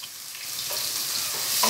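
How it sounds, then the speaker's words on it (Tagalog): Garlic and onion fry in a pan for a tomato and egg stew, a close, steady hiss of sizzling oil with light stirring scrapes, brief and without talk. "I-light brown natin ang ating bawang at sibuyas."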